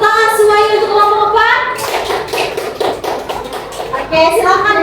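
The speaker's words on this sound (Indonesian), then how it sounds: "Tepuk tangan semuanya untuk kelompok" A classroom of children applauding a group of pupils, a burst of brisk clapping under a teacher's voice, close and lively, fading as she resumes talking.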